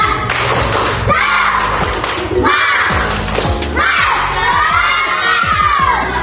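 A room full of children shouting and cheering in loud bursts, with rhythmic thumps like clapping running through the noisy crowd sound.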